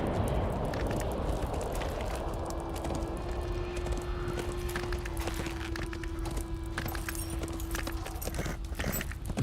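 Horse hooves in Lord of the Rings Online, a steady rapid clip-clop of a ridden mount over a constant background hum and a sustained tone.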